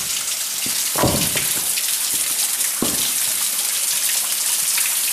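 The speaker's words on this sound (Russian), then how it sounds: "Вот идет вода." Water rushes and splashes steadily nearby inside a cave, a broad hissing flow with occasional louder drips and splats.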